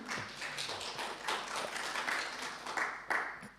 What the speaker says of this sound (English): I would like just like a round of applause again for the public library of Nova Gorica